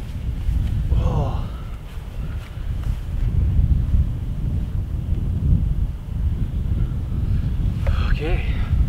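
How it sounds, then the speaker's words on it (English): Steady wind blowing outdoors, buffeting the microphone with a continuous low rumble for the whole stretch, with brief faint voices breaking through. "Got a little bit of wind today."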